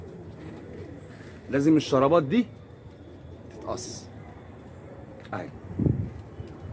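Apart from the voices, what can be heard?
pigeon cooing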